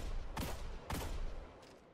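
Gunfire from a first-person shooter video game played on controller: two sharp, loud shots about half a second apart, each with a short ringing tail, followed by a fainter third report.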